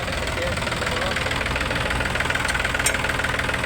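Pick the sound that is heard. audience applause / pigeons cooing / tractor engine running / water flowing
tractor engine running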